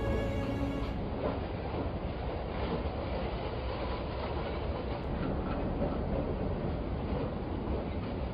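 A passenger train rolls along the rails at night in a continuous loud rumble, with faint rhythmic clatter from the carriages and a brief high squeal partway through.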